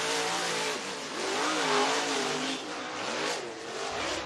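Race cars at Duck River Raceway Park in Lewisburg, Tennessee, coming around the track for qualifying time trials, engines roaring loud and steady with rising and falling revs, no talk.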